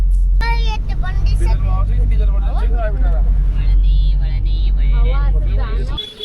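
A car on the way to a fort in Jaipur gives a steady low engine and road rumble from inside the cabin, mostly under continuous talking, until it cuts out near the end.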